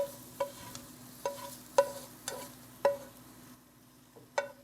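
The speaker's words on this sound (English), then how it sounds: "just long enough to brown up the sausages because they're not all the way cooked through" Parboiled sausages browning in a hot pan, a soft low sizzle punctuated by about seven evenly spaced sharp taps and scrapes from turning them, quiet and close with no talk.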